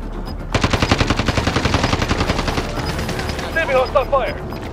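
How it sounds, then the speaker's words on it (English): Rapid machine gun fire in Call of Duty: Modern Warfare, a loud, steady stream of close automatic bursts that fades into lighter shots, with a voice speaking over the gunfire. "Enemy hostile fire"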